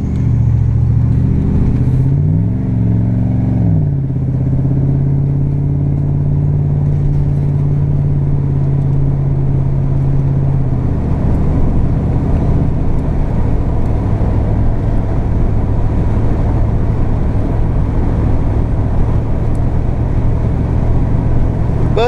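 A 1990 Chevy Silverado OBS pickup with a leaking transmission drives on a test run: a loud engine drone climbs and wavers in pitch early on, then settles into a steady rumbling hum with road noise, and nobody talks.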